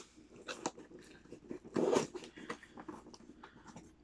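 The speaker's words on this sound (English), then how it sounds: "I'm just trying to figure out how to open this box" A taped cardboard box being opened: scattered crinkles and scrapes, then a louder, rough tearing burst partway through, followed by lighter rustling close by.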